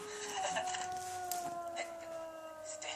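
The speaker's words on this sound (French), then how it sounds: "C'était juste un chien." A dog howls in long, wavering drawn-out tones, fairly loud and steady across the whole stretch, with faint background noise underneath.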